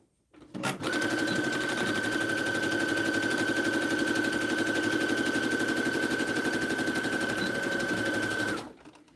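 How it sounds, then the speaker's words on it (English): A sewing machine stitches a satin hair bun maker in one steady, rapid, loud run of mechanical needle chatter with a faint whine, starting and stopping abruptly, close and with no talking. "Otherwise, it's just gonna be quiet sewing."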